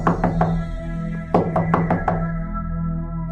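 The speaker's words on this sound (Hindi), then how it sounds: "तभी दरवाजा खटखटाने की आवाज आती है" Three sharp knocks on a door, a short pause, then a faster run of five raps, each close and crisp over a low steady hum, ending in quiet background tone.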